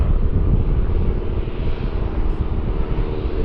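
A steady, loud aircraft engine drone holds throughout, like an open-cockpit training plane passing at an air show at Farnborough, with no talk over it.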